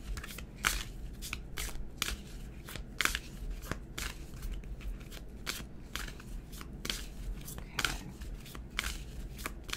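Steady rustling and flicking of angel cards being shuffled by hand for a reading, close and continuous with repeated sharp riffling bursts throughout.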